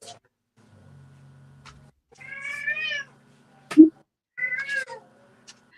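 A pet cat named Peek Peek meows clearly several times, with a few distinct drawn-out calls separated by pauses, close to the microphone and heard alone amid a faint low hum.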